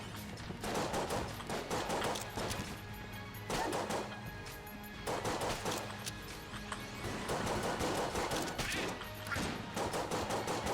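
Repeated bursts of gunfire from an M1911 pistol in the twin-stick shooter Enter the Gungeon, fast volleys coming in loud clusters over busy game sounds with brief pauses between them.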